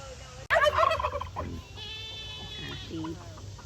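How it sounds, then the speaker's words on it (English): Turkeys gobble nearby on a farm, a sudden loud burst followed by quieter warbling calls from the flock, with faint low background noise. "Look at the turkeys."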